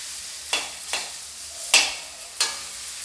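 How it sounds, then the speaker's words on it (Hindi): Onions frying in desi ghee are stirred in a pan, with four short scraping sweeps roughly half a second to a second apart over a low, steady sizzle, fairly quiet and close, with no voices. "देसी घी डालने के बाद अब मैं प्याज को बिल्कुल अच्छी तरीके से भूनकर रेडी कर लेती हूँ।"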